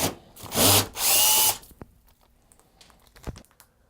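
A power driver backs screws out of an Apevia X Qber PC case: two loud, short whirring bursts, each under a second, then a few quiet clicks and taps as the parts are handled.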